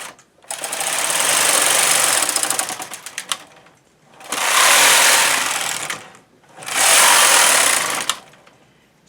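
A knitting machine carriage sweeps through three circular rows at tension 0 for a slouchy pile hat, each pass a loud, dense mechanical whir lasting a few seconds, separated by brief pauses, close up with no talking.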